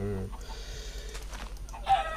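Chickens in a video game cluck in short, soft bursts amid a low background hum, with a faint voice present.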